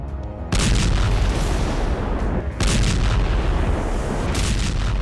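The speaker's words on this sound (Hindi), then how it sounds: "जोरदार धमाका है" Two heavy explosive blasts from a PTKM-1R top-attack anti-tank mine, each a sudden loud boom followed by a roaring rumble that lingers, the second arriving about two seconds after the first.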